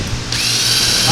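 A power drill bores out the crankshaft oil journals of a Porsche 928S4, its loud close whine rising sharply after a brief start and holding a steady high-pitched grind under load.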